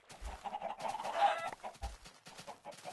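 Chickens cluck in a Minecraft chicken farm, a few short clucks and squawks at moderate volume against quiet background sounds and soft thumps.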